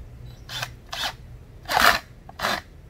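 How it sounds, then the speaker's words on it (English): A 5/16 inch nut driver tightens a no-hub clamp on a sump pump pipe in four short, rasping turns, each a brief gritty burst separated by pauses, close and fairly loud. "5/16 inch nut driver. And tighten this up just as tight as you can make it."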